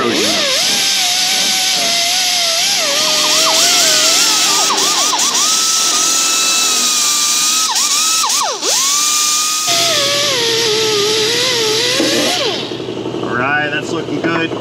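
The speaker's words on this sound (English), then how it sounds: "I'm gonna go in there with a little bit of an abrasive wheel on a grinder." An abrasive wheel on a grinder polishes corrosion off an aluminum gasket surface on a 2007 Chevrolet Monte Carlo SS 5.3, a loud, close, high whine that dips and wavers as the tool bears down and eases off.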